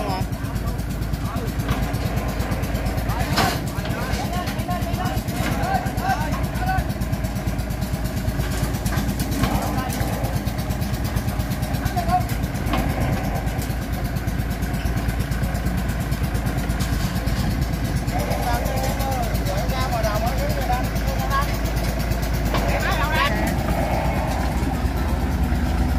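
A Kubota DC78 tracked tiller with new tracks runs its engine in a steady, loud idling chug throughout, while people talk over it.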